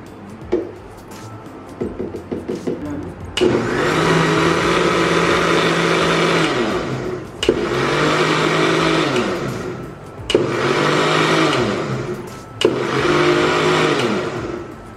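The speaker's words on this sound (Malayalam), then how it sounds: "മൂന്ന് മുട്ട മിക്സിയിൽ അടിച്ചതിന് ശേഷം പഞ്ചസാര അതിലിട്ട് വീണ്ടും അടിച്ചു" An electric mixer grinder whirs loudly as it beats three eggs with powdered sugar for a Christmas cake batter, running in four long bursts with short pauses between them.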